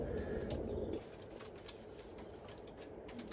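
Racing pigeon cocks cooing inside a loft, a low murmuring coo that swells over the first second then continues softly and steadily, fairly faint, with no talking.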